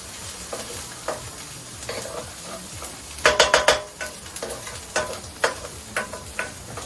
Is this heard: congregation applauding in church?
no